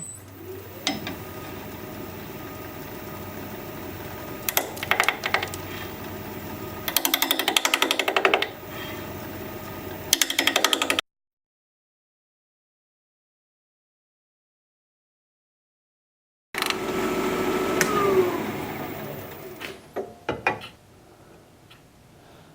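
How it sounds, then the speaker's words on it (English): Bowl gouge cutting a spinning cherry plum blank on a wood lathe at 700 RPM, a steady gritty scraping with rhythmic knocking, broken by a long silent gap before the cutting resumes. "We'll be turning at 700 RPM, 5/8 inch bowl gouge"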